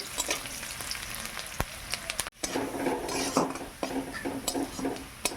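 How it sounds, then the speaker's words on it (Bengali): Onions and bay leaves with five-spice seeds fry and sizzle in a pan over a village kitchen fire, with a steady sizzle under repeated scraping and clinking stirs of a metal spoon against the pan. "ভালো করে পেঁয়াজটা ভেজে নেই"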